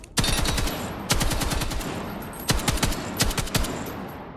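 Rapid automatic gun bursts from a Battlefield firearm, loud and close, with several rattling volleys separated by short pauses and crisp individual shots at the end.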